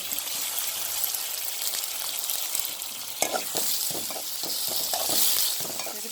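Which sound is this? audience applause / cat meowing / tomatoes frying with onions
tomatoes frying with onions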